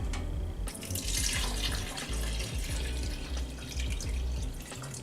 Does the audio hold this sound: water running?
yes